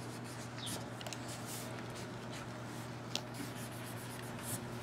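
Pencil or pen drawing on a sheet of paper during a classroom-style demonstration, a steady soft scratching and rubbing that runs throughout over a constant low electrical hum, with no talk.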